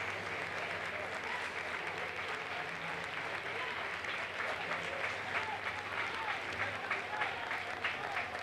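Applause rises from the stands of a Spanish football stadium during a Linares Deportivo versus Atlético Malagueño league match, a steady distant clatter of many hands spread evenly across the crowd with a low hum underneath.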